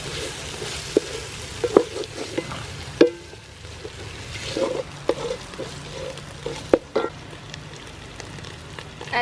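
Dry sweet pepper sizzles in a hot pan for chicken curry, a steady crackling fry broken by occasional sharp clinks and taps of a utensil against the pan.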